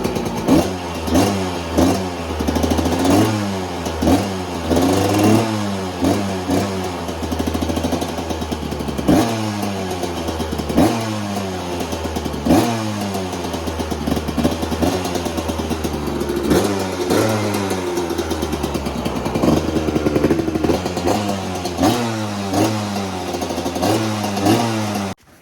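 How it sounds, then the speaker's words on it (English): Two-stroke motorcycle with a freshly repacked exhaust, revved hard in repeated bursts, each climbing and dropping back to a crackling idle, loud and close with no talk. "It actually sounds like a 2-stroke now."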